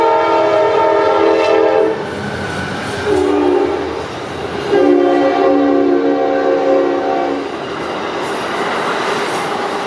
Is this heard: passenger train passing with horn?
yes